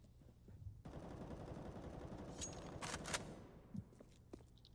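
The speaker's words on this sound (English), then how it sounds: "Simple spams a mag into the halls" Counter-Strike gunfire in a pro match on the Mirage map, a rifle magazine sprayed in rapid automatic bursts that rattle continuously over a few seconds, fairly faint and distant.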